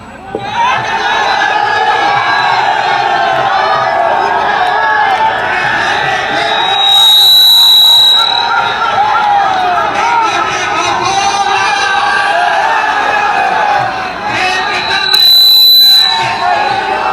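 A dense crowd of supporters at a political road show in Delhi shouts and cheers loudly and without a break for about fifteen seconds, with whistles piercing through and swelling bursts of roaring.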